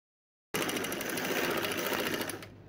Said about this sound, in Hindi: यहाँ पर सिलाई करते हुए हम किनारे पर पहुँच चुके हैं